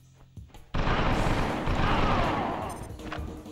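Gunfire in the PS2 video game XIII during a military base mission, a loud sustained burst of shots and blasts that erupts suddenly and keeps up at full volume, with no talking over it.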